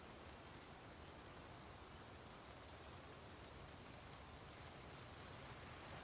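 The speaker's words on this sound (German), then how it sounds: "Regnet natürlich auch, ne?" Steady rain falling in the zombie survival game Project Zomboid, a continuous broadband hiss with no clear individual drops, fairly faint and unbroken throughout.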